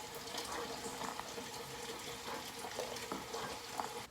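Water runs into a still-hot jam pot as it is rinsed out, a steady close splashing and hissing with light clatter, and no one speaks.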